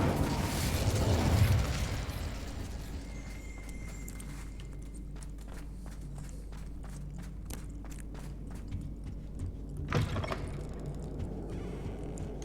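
In the Hogwarts Legacy video game, the Incendio fire spell bursts out loud and roaring at the start, then fades into a low rumble with scattered ticking, soft footsteps and a brief flare near the end.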